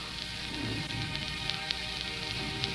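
Rain falling as a sound effect in a 1939 radio drama, a steady soft hiss with scattered light drop ticks, continuous and alone.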